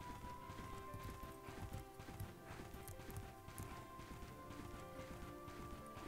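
Hooves clip-clop in a rapid, steady gallop as a horse runs in the video game Bella Sara, with scattered thuds and clatters over the quiet, even rhythm.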